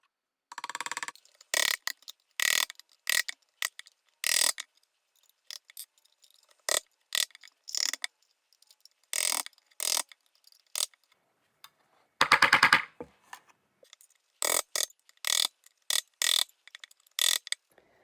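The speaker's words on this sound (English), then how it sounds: "I'm going to start using it with a screwdriver, but I'm going to also be using different nails" A screwdriver and nails punched into a tin can for a lantern, producing sharp, loud metallic clicks and crunches in irregular bursts, separated by short silences.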